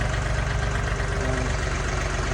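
A tractor engine idles steadily and close, a low rhythmic diesel chug with a constant hum and no change in pitch.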